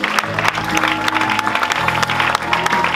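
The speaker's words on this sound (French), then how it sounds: "Est-ce qu'on peut acclamer le Seigneur" A church congregation applauds and cheers in praise, a dense, loud burst of clapping from many hands with a few voices mixed in.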